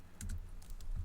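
Computer keyboard keys are pressed in a quick, faint little run of soft clicks, close by and alone, with no talk.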